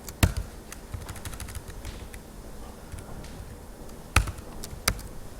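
Computer keyboard typing, heard as sparse, quiet key taps with a few sharper clacks spread across a low, steady room background, close by and without talk.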